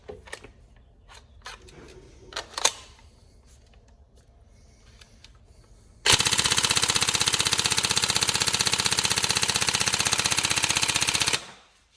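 A Tokyo Marui 416 Delta airsoft electric gun fires a long full-auto burst of rapid, even mechanical clatter, close and loud, after a few scattered clicks and handling noises.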